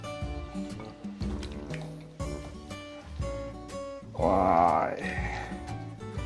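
Chicken marinade with curry leaves and spices is mixed by hand, producing wet squelching and sloshing in a bowl in repeated bursts, close and fairly loud.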